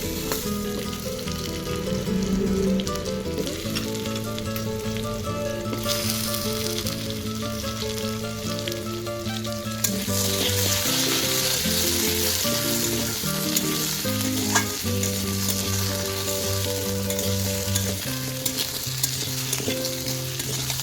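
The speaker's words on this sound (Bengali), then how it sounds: "ফোড়নটা একটু ফুটে উঠলে সবজিগুলো দিয়ে আমি একটু 2 মিনিট মতো নেড়েচেড়ে ভেজে নিব।" Mixed vegetables frying in oil with dried red chillies and five-spice tempering, stirred steadily for about two minutes, giving a continuous close sizzle with repeated scraping strokes throughout.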